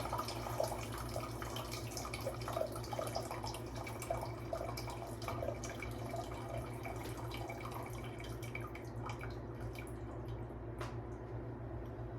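Hot water poured from a cooking pot in a home kitchen makes a steady splashing, trickling stream that runs continuously for several seconds, with drips and a thinning flow toward the end.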